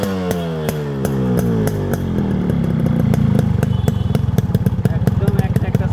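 A Yamaha RX 100 motorcycle with a 100 cc engine idles up close, its beat slowing and deepening after a short rev, then settling into a fast, uneven two-stroke putter with a voice talking over it.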